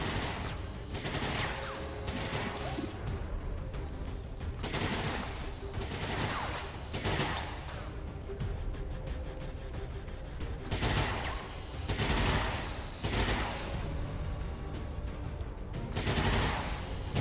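Gunfire from the video game XCOM 2 comes in repeated rapid bursts and volleys, loud and sharp, with short pauses between salvos and no talking over it.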